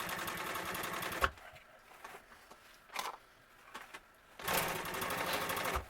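Sewing machine back-tacking vinyl upholstery for a 1951 Ford truck seat: a loud, steady mechanical run of rapid stitching, then a pause with a few faint clicks and handling sounds, before the motor runs hard again near the end.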